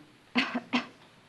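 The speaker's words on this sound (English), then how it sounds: "Cough, please." Two short, close coughs in quick succession, sharp and breathy, with a brief pause between them.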